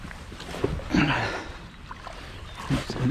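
A Kuda 126 kayak is slid into muddy water, with hull scrapes and thumps and a brief splash and slosh close by. A voice briefly murmurs.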